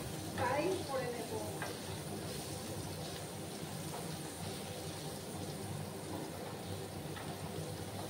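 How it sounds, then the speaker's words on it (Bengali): Potatoes fry with a little salt in a pan on a home stove, giving a steady soft sizzle and crackle that runs the whole time, with faint stirring scrapes near the start. "ভালো করে আলুগুলো একটু ফ্রাই করে নেব।"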